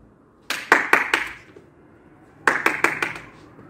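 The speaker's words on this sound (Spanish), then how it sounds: "Vamos a tratar de aplaudir 5 veces." Five sharp hand claps in two bursts, first a group then a second quick run, close and clear in a quiet gym during a youth basketball practice drill.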